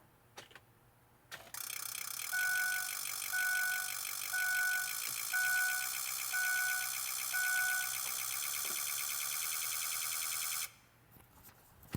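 A diesel truck engine with Holders injectors runs close by, giving a loud, steady, rapid mechanical snapping and ticking for about nine seconds before it cuts off sharply. A quieter background comes before and after.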